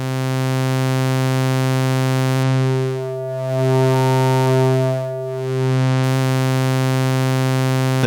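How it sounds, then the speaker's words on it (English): A kNoB technology ηCarinae 2 Eurorack VCO in Sine plus mode holds a loud, steady harmonic-rich tone, with brief dips and swells in brightness as the waveform mix is modulated, and no speech. "any select waveform is summed with a modified sine wave"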